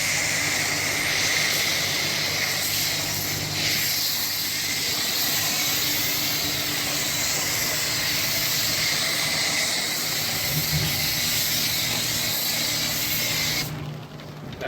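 Chem-X foamer sprays foam onto a truck in a steady, loud, broadband hiss that continues almost unbroken, with a faint low hum beneath and a drop in spray near the end.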